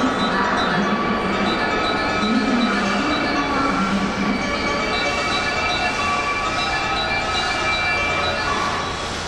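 A JR 221 series "Ocha no Kyoto Train" at a station platform on the Osaka Higashi Line, a steady rumbling drone of railcar noise with faint squeals and a Japanese station announcement of the train's return as a local service.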